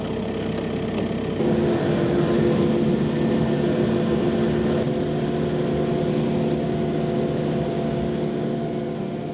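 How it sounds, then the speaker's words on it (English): The diesel engine of an Iseki TLE 4550 compact tractor runs at a steady, loud idle, its even drone rising slightly in level after the first second and holding constant. "So this is the Iseki TLE 4550, the Jack Russell Terrier of compact tractors, as it punches way above its weight."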